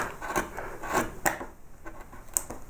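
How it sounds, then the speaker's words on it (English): A carving tool trims back a glued wooden knot repair patch, making several short scraping and shaving strokes close by, irregularly spaced with brief pauses between cuts. "So what I'm going to do next stage is very carefully trim back that height."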